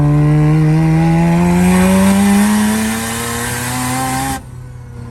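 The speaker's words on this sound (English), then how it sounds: "I think that was a pretty successful burnout" A car doing a burnout in third gear at a burnout competition roars at full throttle with a loud, steady, slowly rising engine howl and tire squeal, then cuts off abruptly near the end.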